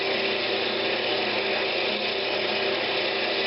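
A skew chisel cutting a wooden tri-cornered box blank spinning on a woodturning lathe, a continuous loud whirring and rasping hum that stays even throughout.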